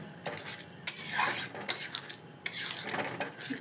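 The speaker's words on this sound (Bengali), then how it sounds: "এবার কিছুক্ষণ নাড়াচাড়া করবো যতক্ষণ না ফোটা পর্যন্ত" A spoon scrapes and knocks through ghugni with tomato and potatoes in a pan, giving several sharp clattering strokes over a soft simmering hiss, fairly quiet and with no talk.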